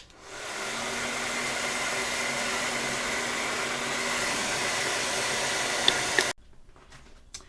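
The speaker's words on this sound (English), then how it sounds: "let me get back to drying my hair" A hair dryer blows on hair, a steady close whooshing whir that runs for about six seconds and then cuts off abruptly, leaving faint rustling.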